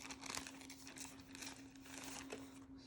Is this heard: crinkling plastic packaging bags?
yes